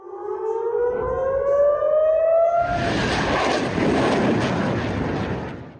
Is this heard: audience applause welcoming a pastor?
no